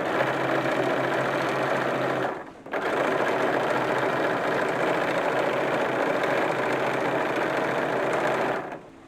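A modern electric sewing machine stitches pieces of an 1860s-style pink corset, running in a steady whirring drone that stops for a moment partway through and then carries on close and loud.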